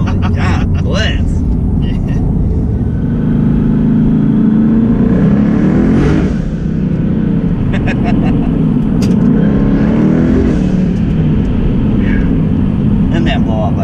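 Twin turbo Ford Mustang S550 with low-mount turbos pulls hard under steady, loud engine roar, with a blow-off valve release heard amid the acceleration and excited voices throughout.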